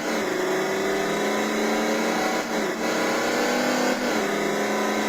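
Motorcycle engine from the racing video game Riding Spirits 2, a steady sustained engine drone with a slight dip in pitch partway through, fairly loud and continuous with no talk.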